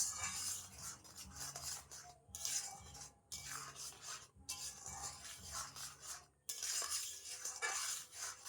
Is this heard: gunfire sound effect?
no